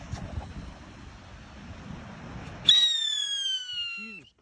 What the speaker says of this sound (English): let's set off some rockets for good luck